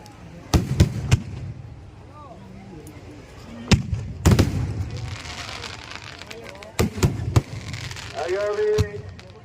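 Fireworks burst in sharp, loud bangs at a fireworks festival on Digha Mohona sea beach, some in quick clusters, with crowd voices and whistling sounds between the blasts.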